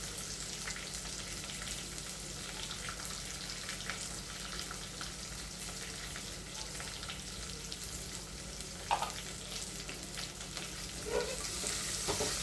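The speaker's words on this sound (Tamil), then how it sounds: "ரெண்டு பல்லு பூண்டு போடணும்" Two cloves of garlic frying in a pan, making a steady, close hiss of sizzling oil throughout with a few small pops and stirring scrapes, no talking.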